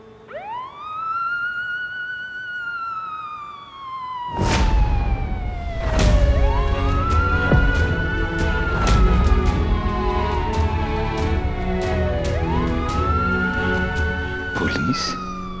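A police siren wails in rising and falling sweeps through a dramatic scene in an Indian TV serial, loud and sustained, punctuated by several heavy booming hits and no speech.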